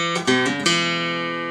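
A short country blues guitar lick, a few plucked notes in quick succession ringing out close and clear before they sustain.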